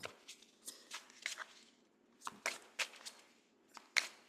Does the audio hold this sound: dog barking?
no